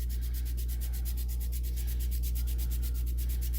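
Rhythmic grating strokes of a microplane grater rub steadily, about twenty quick passes in a row, close and clear over a low steady hum, with no talking, while preparing a vegetable barley soup.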